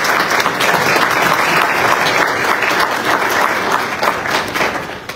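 An audience at an institutional symposium bursts into sustained, dense applause, loud and even throughout before tapering slightly at the end.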